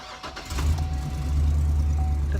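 A work truck engine starts and runs, a deep, steady rumble close by that builds slightly and holds without talk.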